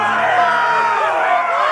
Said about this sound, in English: We cannot let the crowd go wanting.